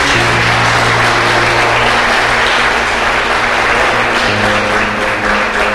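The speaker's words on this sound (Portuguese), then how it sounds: "pode aplaudir a Deus por isso?" A church congregation applauds loudly and continuously during a worship service, a close, dense wash of clapping hands layered over a steady low musical drone from the band or organ, with no speech.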